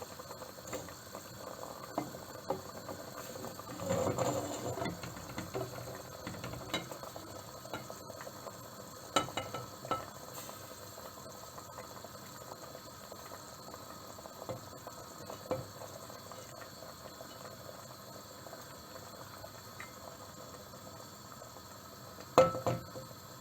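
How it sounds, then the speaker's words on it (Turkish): Meatballs for a Turkish potato meatball stew being stirred in a pot, heard as faint, intermittent spoon scrapes and clinks over a low bubbling simmer, with a sharper knock near the end. "ezmeden köftelerimizi karıştıralım"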